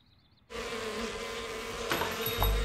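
A swarm of angry cartoon bees erupts into a loud, steady buzzing drone after a brief quiet start, swelling slightly toward the end.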